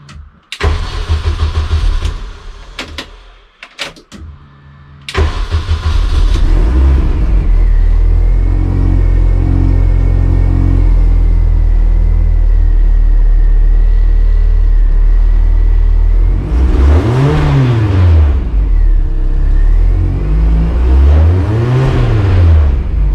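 A Mini Challenge Clubsport race car engine cranks with a few stuttering turns, catches and settles into a loud steady idle, then gives two rising and falling revs near the end.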